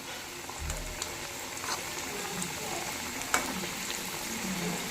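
Parippu vada, lentil fritters, frying in oil over a low flame, a soft steady sizzle and bubbling with a few small clicks and knocks, faint and continuous.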